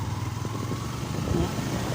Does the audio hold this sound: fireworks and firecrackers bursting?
no